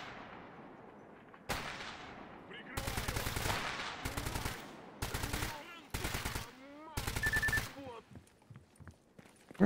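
Gunfire in the video game Stalker GAMMA, several loud rapid automatic bursts in quick succession with short pauses between them, close and sharp, followed by quieter rustling.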